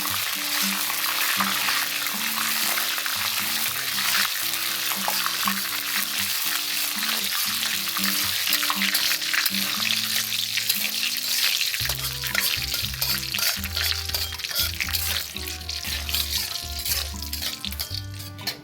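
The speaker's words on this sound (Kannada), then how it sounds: "ಕರಿಬೇವು ಕ್ಲೀನಾಗಿ ಫ್ರೈ ಆಗಿದೆ." Curry leaves fry in hot oil with a loud, steady sizzle throughout, joined by stirring and scraping in the pan. Low tonal background music plays underneath.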